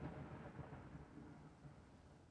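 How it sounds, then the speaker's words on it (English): Low, continuous rolling thunder used as a boom bap beat sample, a quiet rumble that slowly fades over a couple of seconds with no voices. "So I found this thunder sample. All it is rolling thunder,"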